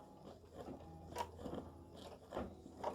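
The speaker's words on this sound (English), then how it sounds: "I've put my green thread in to stitch the stems." A needle draws green thread through card stock while stitching stems on an embroidered Valentine greeting card, giving faint, close scraping and papery crunching pulls at a steady, quick pace.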